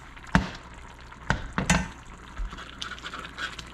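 Jambalaya boiling in a pan on a stove burner, with a few sharp clinks and scrapes of a utensil against the pan over a soft, steady bubbling hiss.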